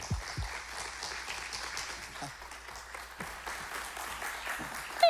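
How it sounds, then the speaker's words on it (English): Audience at a live masterclass claps in welcome for an arriving guest, a soft, diffuse spread of applause with a few voices murmuring underneath, fading toward the end. "clap your hands."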